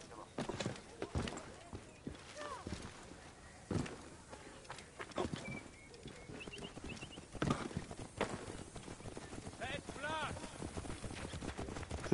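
Horse hooves clip-clop in the video game Assassin's Creed Origins, an irregular run of faint hoof hits mixed with footsteps and other game sounds while someone talks over them.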